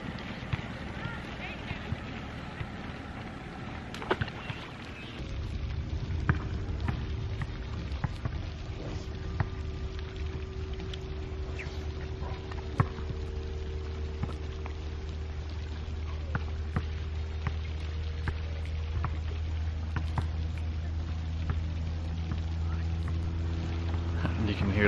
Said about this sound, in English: You can hear that guy with his boat over there.